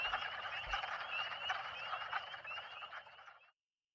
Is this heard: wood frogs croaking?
yes